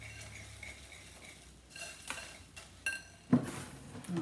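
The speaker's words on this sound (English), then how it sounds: "Just give it a good mix." Eggplant appetizer mixture being stirred in a bowl, a few scattered scrapes and clinks of a utensil against the dish, quiet and close, with a sharper knock near the end.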